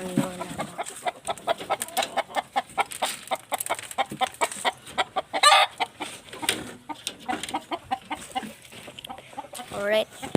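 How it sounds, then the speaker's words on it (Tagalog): Chickens cluck repeatedly in close, busy bursts, with a brief louder squawk midway and more calls at the end, recorded at a backyard flock belonging to a grandmother. "Ito yung manok ng lola ko."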